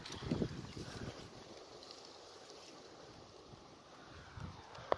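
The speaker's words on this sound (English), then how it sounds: "Wind's picking up." Wind picking up outdoors beside a backyard bearded dragon enclosure, a soft steady rush with light microphone buffeting and a few brief bumps.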